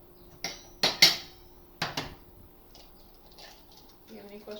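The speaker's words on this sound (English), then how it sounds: "we're going to crack them into the bowl and then mix them all up" Eggs cracked against a bowl for scrambling: a few sharp taps and clacks of shell on the bowl's rim, then quieter scraping and stirring, all fairly close.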